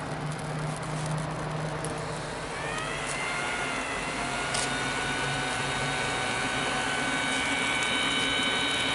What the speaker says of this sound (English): Once it's light, you can turn the blower on.